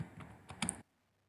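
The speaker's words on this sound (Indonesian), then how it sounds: "di sini saya akan ketikkan user del" A command being typed on a computer keyboard: a quick run of close, crisp key clicks ending in a sharper tap, then silence.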